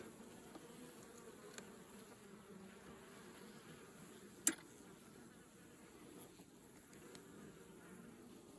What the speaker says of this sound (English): I've got one angry bee flying around my face